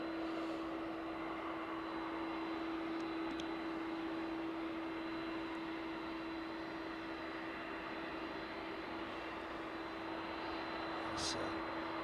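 A Boeing 757 freighter taxis at East Midlands Airport at night, a steady jet engine drone with a strong constant whine, holding at an even level throughout with no voices.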